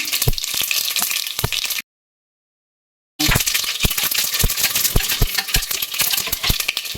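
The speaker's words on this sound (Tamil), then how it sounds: "இது நல்லா பொரிஞ்ச அப்புறம் சோம்பு சீரகம் காஞ்ச மிளகாய் மூணுமே சேர்த்துடலாம்" Fennel seeds, cumin and dried red chillies crackle and sizzle in hot oil, a loud broadband fry dotted with sharp popping bursts. A short silent gap breaks it before the sizzling resumes just as strongly.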